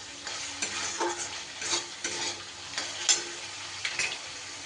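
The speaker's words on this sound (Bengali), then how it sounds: "মশলা কিন্তু খুব সুন্দর করে আমার কষা হয়ে গেছে, মশলা থেকে তেল ছেড়ে দিয়েছে" Spice paste frying in oil for an aloo potol curry, a soft sizzle under repeated rhythmic stirring strokes of a spoon against the pan, each scrape rising briefly above the bubbling.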